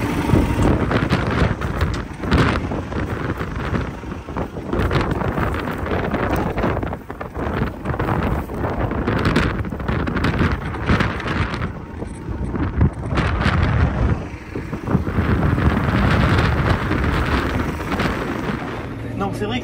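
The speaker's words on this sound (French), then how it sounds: "il y a du vent dehors" Outdoor wind buffets the microphone in a garden among young plants, a loud continuous roar and rumble throughout, with a voice talking now and then beneath it.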